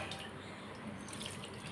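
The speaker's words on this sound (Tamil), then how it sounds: "இப்போ நான் இதில் புளியை கரைச்சி ஊற்றிக்க போகிறேன்" Tamarind water dissolved in liquid is poured into a pot of fish kulambu, a steady close splashing trickle like a running tap, continuous for under two seconds with no talk.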